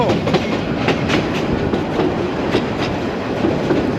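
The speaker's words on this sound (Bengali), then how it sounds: "একটা স্টেশনে কিন্তু তিরিশ সেকেন্ড মতো দাঁড়াচ্ছে ট্রেন" A local commuter train on the Dhaka to Narayanganj line rattles loudly and close by, its wheels beating out a steady clickety-clack rhythm over a deep rumble, with no talking.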